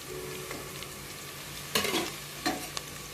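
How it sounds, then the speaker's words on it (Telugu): Onions, green chillies and ginger paste frying in a pan, with a steady low sizzle and a few louder scraping stirs of a spoon near the end, close and moderately quiet. "అల్లం పేస్ట్ వేసిన తర్వాత ఇలా కలవ తిప్పుకోవాలి."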